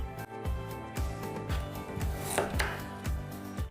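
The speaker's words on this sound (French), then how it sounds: "nous voilà en train d'éplucher et de couper des pommes de terre" Potatoes being peeled and cut for a summer potato salad, with regular knife strikes roughly every half second against a board, each a short thud, steady and close, with no talking.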